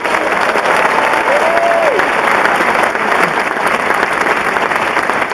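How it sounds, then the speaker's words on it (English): An audience claps at a graduation ceremony in Radio City Music Hall, a dense, loud, steady applause that fills the large hall without letup for the whole stretch. "Let's have a round of applause for them."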